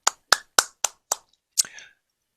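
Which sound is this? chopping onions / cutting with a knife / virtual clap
virtual clap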